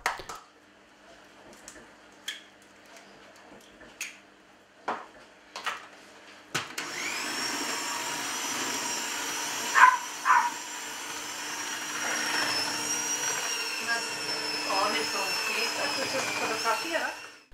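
An electric mixer kneading a yeast dough for a braided sweet loaf, made with egg and butter. After a few scattered knocks and clatters, a steady motor whir runs at moderate loudness with a couple of thuds.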